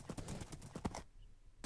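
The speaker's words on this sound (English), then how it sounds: "I'm gonna win my first horse race." Rapid hoof clip-clops of a galloping horse during a Minecraft horse race, a dense run of thuds that stops abruptly, then a quiet gap before one more hit.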